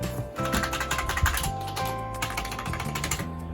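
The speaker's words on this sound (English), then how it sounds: "Move the mouse around, press keys." Close computer keyboard keys clatter in a quick, uneven run of typing taps, with faint mouse handling, while a laptop is set up as a desktop; no voices.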